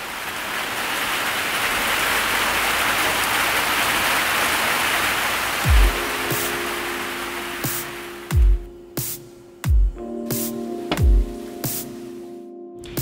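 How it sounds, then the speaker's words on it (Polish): Heavy tropical rain shower in Martinique, a steady dense hiss of downpour that fills the scene, with a few louder thumps and knocks close by in the second half. "Właśnie przyszła kolejna fala deszczu."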